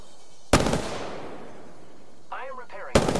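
Two sharp gunshot blasts from a shooter in Apex Legends, one early and one at the end, each bursting loud with a decaying tail, plus a brief warbling game effect just before the second shot.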